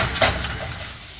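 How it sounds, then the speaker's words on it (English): Pizza sizzles in a hot pan with a faint clink of utensils, a steady frying crackle filling the short moment. "you can hear that sizzle starting right off the bat"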